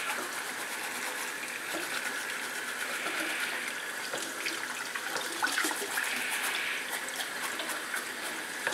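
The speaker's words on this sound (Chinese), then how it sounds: "成條海參幫佢清洗乾淨啦" Sea cucumber being rinsed clean under a running tap, with a steady, close gush of water that runs continuously without pause.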